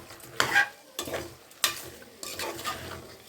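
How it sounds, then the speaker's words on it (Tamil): Stirring in a pot of thick mutton gravy, with a few scraping, sloshing strokes in uneven bursts, close by and moderately loud, with no voices. "நல்லா இப்படி கிளறி விட்டுட்டு"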